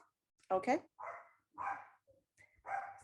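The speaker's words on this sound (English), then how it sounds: "my dog starts to bark as soon as we start, so I apologize for the noise" A dog barks several times in short, close, separate bursts, and a person says a word between the barks.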